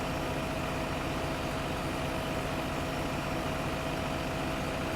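Tractor engine in Farming Simulator 15 pulling a heavy Pottinger implement with a 700 kilogram front weight, a steady low drone that runs unbroken and fairly quiet throughout.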